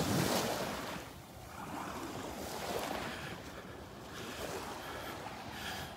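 Surf on the beach at Delnor-Wiggins, a broad wash of breaking waves rising and falling over a steady roar, mixed with wind buffeting the microphone, with no talk.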